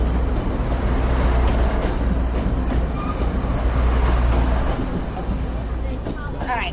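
A train rumbles past very close, a couple of feet away, in Taiwan, a loud steady roar of wheels and rails with faint clatter, with people talking briefly over it.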